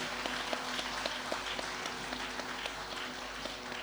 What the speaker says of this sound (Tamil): அவர்களுக்கு நல்ல ஒரு பெரிய கைத்தட்டல்.